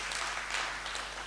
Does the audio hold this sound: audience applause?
yes